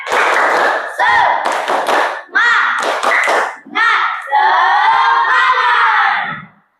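Students in a classroom clap a rhythmic spirit clap in short, loud bursts, with young voices shouting and chanting along between the claps.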